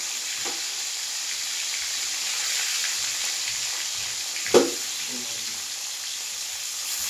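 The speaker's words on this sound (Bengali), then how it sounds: "ফুলকপিটা ভাজবো, নুন আর হলুদ মাখা আছে, তেল গরম হয়ে গেছে" Cauliflower pieces coated in salt and turmeric fry in hot oil as fritters, a steady even sizzle with a brief louder spit or clatter partway through and no talk.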